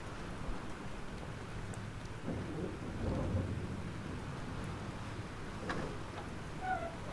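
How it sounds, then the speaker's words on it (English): Thunderstorm in the video game Life is Strange: steady heavy rain with low rolling thunder rumbles, a soft continuous wash without speech. "This storm is real."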